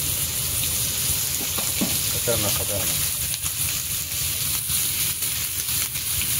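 Large prawns fry on a hot tawa with a steady crackling sizzle and occasional sharp pops, heard close up under a constant background hum.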